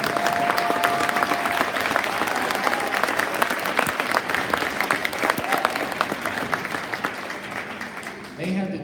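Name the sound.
applause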